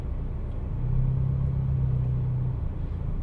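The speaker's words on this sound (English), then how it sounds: "put the vehicle into reverse, take my hands off the steering wheel and then just operate the pedals" A Ford Ranger backs up under Active Park Assist, its engine a low, steady close rumble, with a faint humming tone rising briefly in the middle and then fading out.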